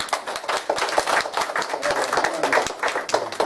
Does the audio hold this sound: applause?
yes